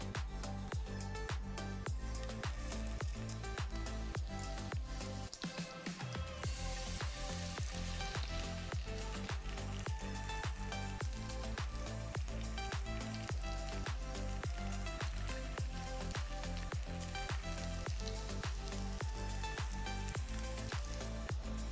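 Coriander and gram flour fritters, kothimbir vadi, shallow frying in hot oil, giving a steady loud sizzle and crackle for the whole stretch with a brief dip partway through, and no voices over it.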